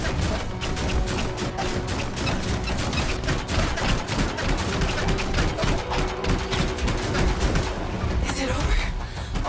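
Rapid gunfire from a sci-fi shooter game, dense overlapping bursts and shots continuing steadily throughout at high intensity, with booms mixed in and game voices under the shooting.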